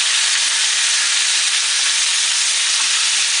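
A pork chop browns in a hot pan with a loud, steady sizzle and hiss that runs unbroken from start to finish.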